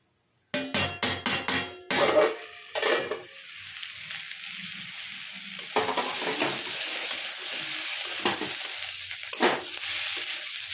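Potatoes and prawns fry together in a pan, opening with a quick series of sharp spatula knocks against the pan before settling into a steady sizzle broken by occasional stirring scrapes.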